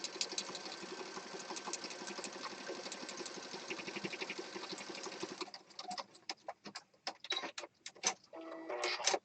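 A sewing machine runs steadily for several seconds, then breaks into short, uneven bursts of stitching with ticking clicks between them, close and moderately loud.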